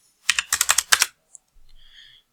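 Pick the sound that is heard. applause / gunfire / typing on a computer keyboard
typing on a computer keyboard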